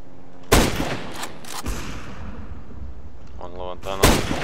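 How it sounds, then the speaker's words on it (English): In CS:GO, a grenade blast and gunfire hit in sharp, loud bursts at the start, again a second later, and once more near the end, with a voice briefly heard between the blasts. "I'm throwing a grenade."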